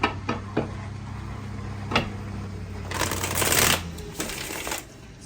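Tarot cards being shuffled up close: a few sharp taps, then a longer riffling burst, with a low steady hum in the background.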